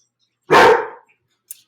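A dog lets out one sharp, close bark indoors, then falls quiet apart from a tiny faint sound just after.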